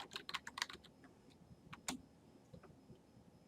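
Quick, light keystrokes on a computer keyboard come in a short burst, then a few scattered taps follow, close and quiet in an otherwise still room.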